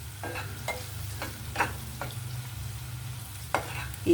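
Capsicum pieces frying in a pan for a capsicum curry, with steady low sizzling and several scraping stirs of a spatula at irregular intervals, close and alone without talk.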